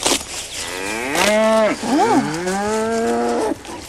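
Cows moo loudly and close by on a farm in a long, drawn-out call that rises and falls, with a brief break midway.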